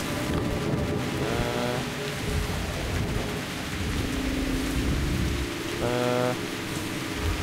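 A rainstorm rages in the video game Metro Last Light, with loud, steady rain hiss and rumbling thunder that go on throughout with no speech over them.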